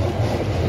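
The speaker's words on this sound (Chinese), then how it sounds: "电车的线路，正好有一辆富士急行通过。" A Fujikyu Railway sightseeing train passes near Mount Fuji, its steady low rumble of wheels on rails holding at an even, fairly loud level with no talk over it.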